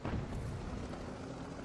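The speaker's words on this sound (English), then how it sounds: "The HE explosion." High-explosive shell from an M12 gun vehicle hitting a target in a video game, a loud dense blast that rumbles and stays dull and steady through its short tail.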